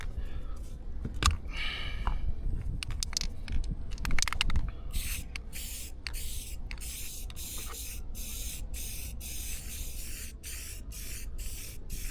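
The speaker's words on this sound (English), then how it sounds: "get a little bit of the high zinc primer on" High zinc primer sprays from an aerosol can under a welding blanket outdoors in the wind, with long hissing bursts early on, then a run of short rhythmic spurts separated by brief gaps.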